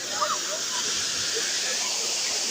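Kokachag Waterfall pours with a steady, broad rushing hiss, loud and unbroken, while faint voices are heard underneath.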